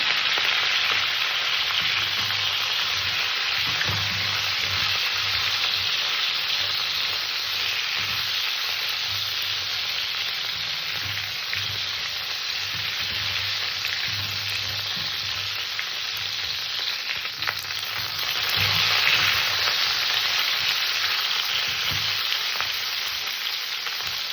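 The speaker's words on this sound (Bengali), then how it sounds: "আমি সর্বপ্রথমে ফুলকপিগুলো একটু ভেজে নেব হালকা করে একটু হলুদ দিলাম" Cauliflower fries with turmeric in mustard oil in a pan, giving a dense, continuous crackling sizzle that stays loud and close, with a few faint stirring scrapes.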